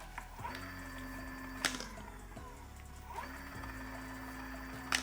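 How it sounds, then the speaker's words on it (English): Electric bicycle 350W BLDC hub motor spinning under throttle, giving a steady faint whine with rising tones as it speeds up twice, plus a couple of brief clicks. "So the motor is working fine."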